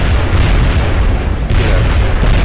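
Rocket explosion in the X-Com video game, a loud, sustained rumbling boom that fills the whole moment with heavy low roar and no pause.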